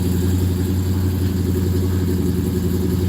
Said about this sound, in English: It's actually a pretty mean sounding engine in there.